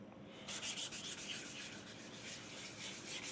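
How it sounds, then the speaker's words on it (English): Sandpaper rubs steadily in quick back-and-forth strokes over a War Machine costume suit part, a close, continuous scratchy hiss with no voices. "I definitely have to sand the rest of my suit."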